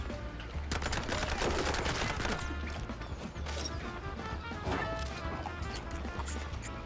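Tommy gun fire in a video game, rapid bursts of crackling automatic shots mixed with crashing impacts and mechanical clatter, dense and continuous at moderate loudness.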